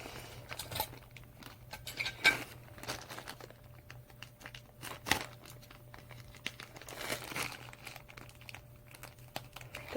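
Plastic AliExpress mailer bag holding a heavy t-shirt being handled and pried open, giving steady close crinkling and rustling with a few sharper crackles and tearing scrunches, no talking.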